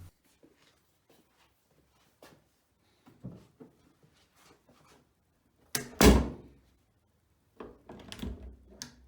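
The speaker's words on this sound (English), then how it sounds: "So now let's close the door and open it and see if the latch has stopped sticking" A door with a sticking latch shuts with a sharp thump and latch click against the frame, preceded by faint handling taps and followed by quieter rattling, in an otherwise quiet room.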